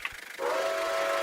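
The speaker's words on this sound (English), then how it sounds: "we're going to be hearing the whistle right now" A Nickel Plate Road 765 steam locomotive in the RO Scale Sandbox game blows one loud, steady whistle. The whistle starts partway in and holds unbroken to the end over a soft rumbling background.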